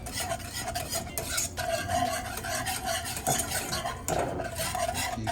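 Apple toffee glaze is whisked steadily over low heat in a pan, and the close, continuous scraping and rasping runs without a break for the whole stretch.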